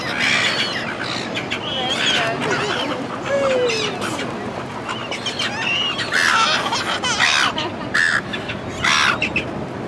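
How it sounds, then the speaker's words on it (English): Wild birds gathering at a small bird table by a window at home, with loud crow-like caws and scattered chirps repeating close by over a steady outdoor background and murmured voices. "Then the birds come in."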